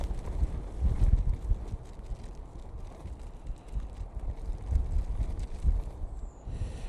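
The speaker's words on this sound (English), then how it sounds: "it is very windy." Strong gusty wind buffets the microphone at Manchester Airport, rumbling in uneven surges that swell and ease throughout, with no talking.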